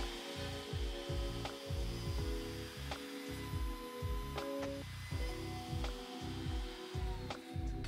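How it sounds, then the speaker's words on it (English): A router on a sled flattens a wood slab, a steady whining cut with a rhythmic, repeating grind as the bit sweeps back and forth across the grain, close and fairly loud with no talk. "Flattening a slab is really simple. I move across the slab, then slide the sled across the table a little bit and repeat."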